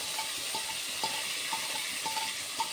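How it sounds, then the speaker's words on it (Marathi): Tomatoes sizzling in a pan for a Sindhi dal pakwan breakfast, a steady frying hiss with a few soft stirring clicks and scrapes, close and alone without talk. "आता टोमॅटो टाकून घेते. आपल्याला टोमॅटोही छान भाजून घ्यायचा आहे."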